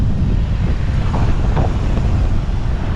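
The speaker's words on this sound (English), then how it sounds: "Getting some super strong headwind now, so I feel like I'm biking backwards almost." Strong headwind roars across the microphone of a bike riding along Ocean Boulevard in Myrtle Beach, a continuous loud low-pitched buffeting rumble with no speech.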